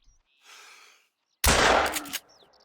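A single loud 12-gauge slug shotgun blast fired at a wild boar in the Call of the Wild hunting game, sharp and close, with a brief echoing tail and faint ambient sounds before it.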